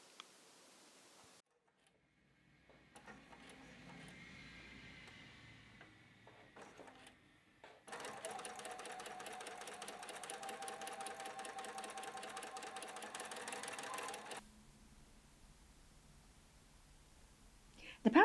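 A sewing machine stitches coat fabric with back stitching, running in a steady rapid whir for several seconds after quieter shorter bursts and handling noises, then stopping.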